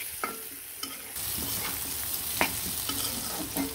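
Sliced onions frying in hot oil in a pan crackle and sizzle steadily, with a few soft taps and scrapes of a spatula, heard up close and without talk.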